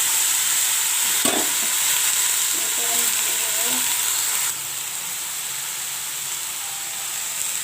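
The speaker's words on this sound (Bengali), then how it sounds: "তো এইটা মাছটাকে আমি ভাজতে বসিয়ে দিলাম।" Small live pond fish (ghuso) frying in a little oil in a pan. A loud, steady, close sizzle and hiss runs throughout, with a brief clatter near the start; it drops slightly in level about halfway and then continues evenly.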